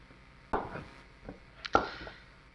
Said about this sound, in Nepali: म चाहिँ प्याज काट्दैछु गाइज